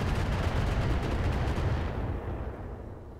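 Heavy gunfire strikes armor in the video game Roguepoint, a dense, loud roar of shots and impacts that holds steady before fading out toward the end, with no talking.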